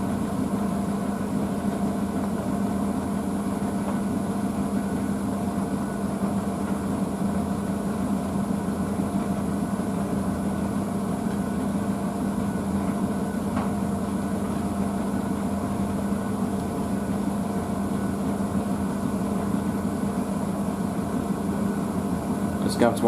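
A Blomberg WNF9448 washing machine spins a load of denim jeans, bottoms and towels at 600 rpm, giving a steady, continuous low hum and whir that holds evenly throughout, with a faint mechanical drone and no speech.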